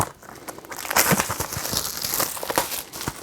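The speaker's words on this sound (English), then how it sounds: "Take this shrink wrap off." Plastic shrink wrap being peeled and crinkled off a Blu-ray case, a steady close crackling rustle with sharp tearing bursts throughout.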